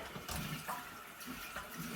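Warm tap water runs over a stencil screen clipped to a clipboard during rinsing, a steady splashing flow with small surges, close by and fairly quiet.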